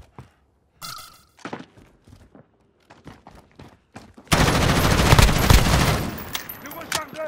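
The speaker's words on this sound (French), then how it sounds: "Je recharge." Call of Duty Modern Warfare gameplay: sharp mechanical clicks and clacks of a weapon being reloaded, followed by a burst of loud sustained gunfire and explosions.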